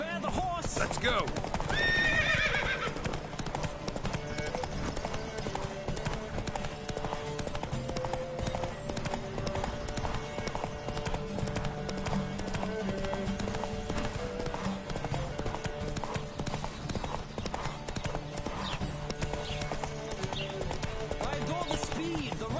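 Rapid hoofbeats of galloping horses in a horse race in the video game The Witcher 3 pound steadily with loud whinnies early on, mixed with game music and occasional voices.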